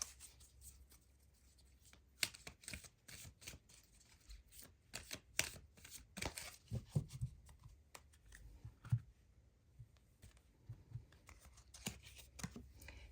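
Fairies Oracle cards being shuffled by hand for a tarot reading, a soft, close, continuous run of papery riffles and flicks with irregular rhythm.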